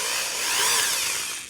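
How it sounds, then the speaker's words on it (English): A power drill bores a hole while building an antenna transformer, its whirring motor rising and falling in one short, close burst. "I'm just going to drill the hole right there"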